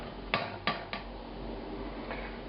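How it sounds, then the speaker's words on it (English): A metal sieve scraped and knocked against a pot while making a beef curry with anardana and mint, giving three sharp clanks close together and then a fainter tap, with no talking. "wipe this off and scrape the bottom of the sieve"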